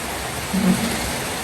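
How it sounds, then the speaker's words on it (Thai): Steady rain falling outdoors at a village home in rural Thailand after several dry days, a continuous broadband hiss that stays close and even throughout, with a slight low swell midway. "หลังจากหายไปหลายวันฝนครับ"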